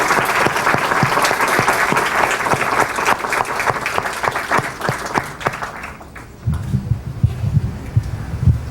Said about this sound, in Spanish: un aplauso para las 3 promociones de 100 jóvenes en San Marcos